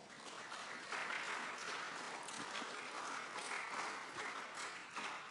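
Spectators clap at a US congressional hearing on UFOs. The sustained, dense applause is soft and somewhat distant, with no talk on top.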